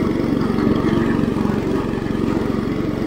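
An IH Cub Cadet 149 lawn tractor with its mowing deck raised high cuts barnyard grass, its engine running close and loud in a steady, fast-pulsing drone.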